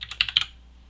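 Rapid typing on a computer keyboard during a coding lesson, a quick burst of about six close, crisp key clicks that stops after half a second, leaving quiet room tone.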